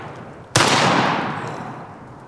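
A single loud shotgun blast of number 4 buckshot from a tactical semi-auto shotgun, a sharp crack at once followed by a long, slowly fading roar.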